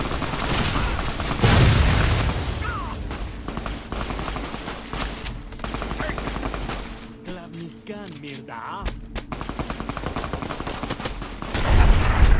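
Rapid bursts of gunfire crackle in Fallout: New Vegas, loud automatic volleys and heavy shots stacking up in dense clusters, with a brief quieter stretch before the firing resumes hard at the end.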